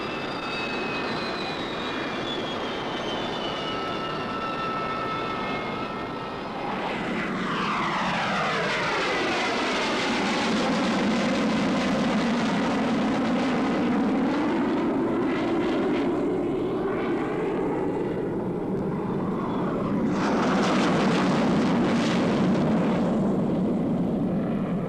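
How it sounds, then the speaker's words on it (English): Hawker Hunter jets of the RAF's Treble One Squadron roar overhead in a formation display, a loud continuous engine rush that swells and sweeps past in two passes with a falling pitch. "the officers watched a formation flying display by Hunter jets of the famous Treble One Squadron"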